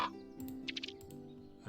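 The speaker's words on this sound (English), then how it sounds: "Yeah, like this is an actual raven's cry." A raven's cry, a real recorded bird sound effect in the Wingspan digital board game, comes as a few harsh croaking calls over a steady hum of background game music.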